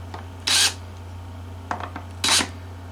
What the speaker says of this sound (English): the drill's in reverse. Just going to back them out 1/16 of an inch.